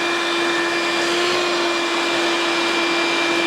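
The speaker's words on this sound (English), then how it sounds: "I'm going to vacuum up" A vacuum cleaner runs steadily and loudly close by, sucking up metal shavings from drilling a suitcase, with a constant high whine over a broad rushing hiss.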